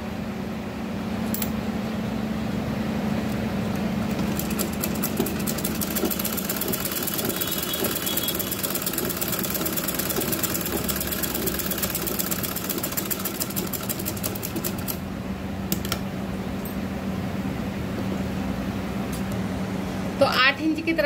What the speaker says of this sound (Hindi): तो 8 इंच की तरफ से मैंने यहाँ पे सिलाई लगा ली है।